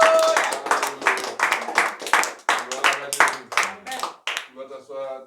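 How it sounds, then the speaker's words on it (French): A French-speaking church congregation claps and cheers, with steady rhythmic handclaps running under loud overlapping shouts and voices that fade near the end. "Acclame très fort."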